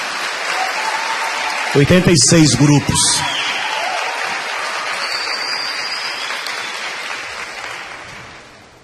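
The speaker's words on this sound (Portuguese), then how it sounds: "Aplaudo o número." Audience applause at a church youth ministry gathering rises as a steady wash of clapping. Someone speaks briefly over it near the start, and the clapping then continues alone before fading at the end.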